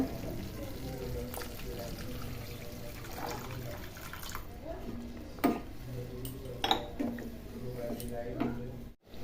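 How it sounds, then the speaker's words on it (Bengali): Hot water poured into fried spice paste for a katla fish curry, a steady watery pour with a few clinks of utensils against the pan, near and moderately loud under background talk. "এবার আমি এর মধ্যে গরম জল দিয়ে দিব পরিমাণ মতো"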